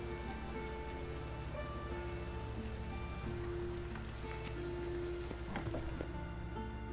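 Steady rain falls in The Witcher 3: Wild Hunt, a continuous patter on surfaces with a faint tonal game music bed underneath.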